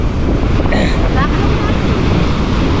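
Ocean waves and surf roll steadily near a boat at sea, loud and continuous with heavy wind buffeting the microphone throughout.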